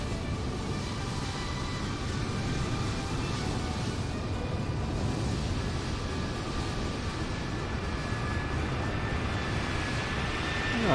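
An Airbus A320 airliner in a flight simulator game rolls through its landing with a steady, loud, broadband engine and airframe rumble and a faint high whine, continuous for the whole stretch with no talking.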